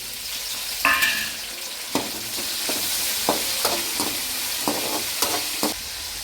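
Tomatoes sautéed in a pan with a steady sizzle, broken by a string of sharp scrapes and clacks from stirring, close by with no talk.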